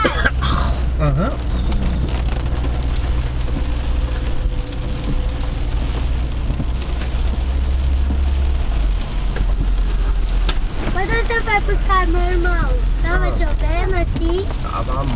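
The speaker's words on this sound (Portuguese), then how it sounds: "Chuva, chuvinha!" Rain falls on a street, a steady close hiss under a low rumble of traffic, while a child and adult chat over it.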